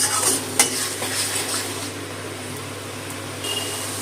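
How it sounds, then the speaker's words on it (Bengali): Spice paste is stirred and fried with its grinding water in a pan while a potato-gourd dorma is cooked, giving a close, steady sizzle with spoon scrapes and knocks against the pan that ease off toward the end. "মশলা বাটার জলটা দিয়ে আরেকটু নেড়ে ছেড়ে কষিয়ে নেব"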